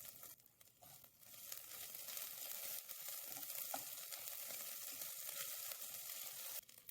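Grated ginger, about a tablespoon, sizzles steadily in a hot oiled pan while peach chutney is being made, a continuous close crackling hiss with no talking.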